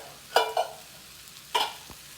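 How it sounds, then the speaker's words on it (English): Canned hominy warming in its own juice in a pan gives faint, sparse sizzling crackles and a couple of soft stirring scrapes, with no one talking. "I'm just going to cook it right with the juice that it comes with"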